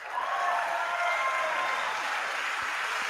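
Dense, continuous applause from an audience during a political speech, a steady wash of clapping filling the room at an even loudness.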